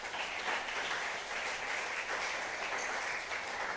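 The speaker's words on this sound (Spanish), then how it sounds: "denle un aplauso gigante a Dios" Steady applause from a church congregation, a dense even wash of many hands clapping at moderate volume with no talk over it.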